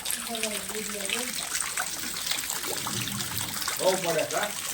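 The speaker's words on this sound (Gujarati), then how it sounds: "બહાર વરસાદ આવી રહ્યો છે" Steady rain falls outside as a continuous, even hiss with a wet trickling texture, while faint voices come and go beneath it at the start and end.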